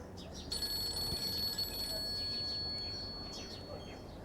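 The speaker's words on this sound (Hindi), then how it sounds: "किसका फोन है?" A telephone rings indoors with a bright, steady electronic trill that carries on for a few seconds. Background noise and faint chirping sit under the ring.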